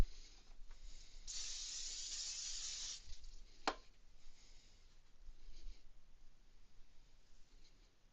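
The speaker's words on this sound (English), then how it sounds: "Cooking spray." Cooking spray from an aerosol can gives one near hiss lasting about two seconds, followed by a short sharp click, then quiet kitchen handling noises while cookies are being baked.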